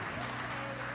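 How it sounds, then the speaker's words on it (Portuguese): A church congregation clapping their hands during a service, dense continuous applause filling the space for about a second. "Agora bata palmas para Jesus"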